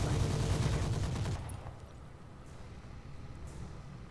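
Mech weapons fire in the Roguetech video game as a dense, rumbling burst of rapid shots, then fade into a low continuous roar with faint distant impacts.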